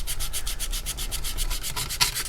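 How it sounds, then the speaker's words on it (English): Light hand sanding on a plastic model car body being prepped for rattle-can paint, a steady rapid back-and-forth rasp in even strokes, close and continuous, with no voices. "Let's do a lighter sand just to get a look here."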